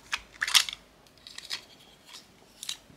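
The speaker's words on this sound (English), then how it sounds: "Let's unwrap this candy." Crinkly plastic of a lollipop candy wrapper being pulled open, one sharp rustling burst near the start followed by several fainter crackles, close and clear with no talk.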